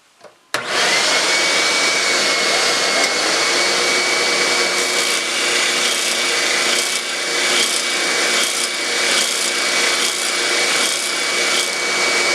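A loud power tool, connected to a shop vacuum for dust collection, runs steadily close up while squaring a cabinet edge during woodworking, alongside the vacuum's whoosh, with a rhythmic rasping texture throughout.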